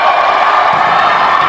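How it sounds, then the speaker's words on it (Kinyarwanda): A Gisagara volleyball crowd roars continuously for the home team during a match against Nyanza, a dense, loud wash of cheering and shouting voices with no break. "Abafana ba Gisagara barahagurutse cyane bati muka dushyigikira ikipe."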